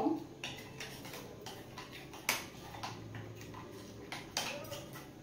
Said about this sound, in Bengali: সর্ষের তেল দিয়েও আমি মিশিয়ে নেব